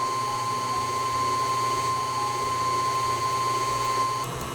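An electric mixer with a whisk attachment beats lamington batter of eggs and powdered sugar, a steady loud whirring drone that holds throughout, joined by a constant high electrical whine.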